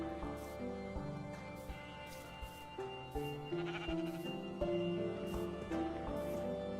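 In Minecraft, a sheep bleats several times over soft layered game music and scattered in-game clicks and footsteps, the bleats moderately close and wavering.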